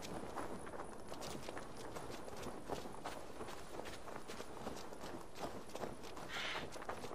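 A horse's hooves clip-clop steadily in the Assassin's Creed Valhalla video game, a continuous walking rhythm over dense outdoor game ambience.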